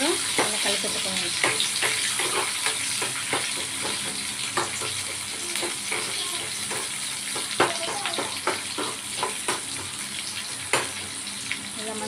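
Onions and curry leaves fry in a pan with a constant crackling sizzle, broken by frequent scraping clinks of stirring, close up and moderately loud.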